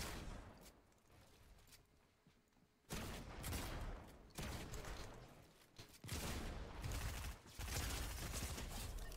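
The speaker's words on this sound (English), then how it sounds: "we got more gunshots up here." Rapid bursts of gunfire from the video game Fortnite, loud volleys arriving in several separate clusters with short gaps between them, no talking over it.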